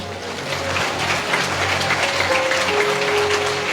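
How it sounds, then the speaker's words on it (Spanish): A church congregation at the Iglesia de Cristo claps in a loud, continuous patter that fills the room, with a sustained tonal hum running underneath. "Fuerte aplausos Iglesia de Cristo."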